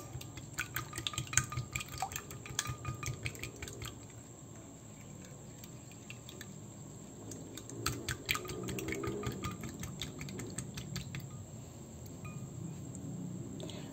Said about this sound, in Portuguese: A gente tá misturando, batendo os ovos.